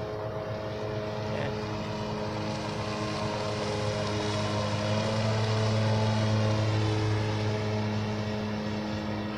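A 1997 Sea Doo Sportster jet boat on a lake near Lakeland, Florida, with its engine droning loudly and steadily at close range as it passes, swelling slightly in the middle.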